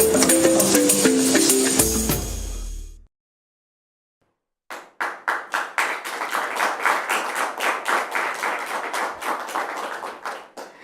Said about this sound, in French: Les applaudissements sont des applaudissements nourris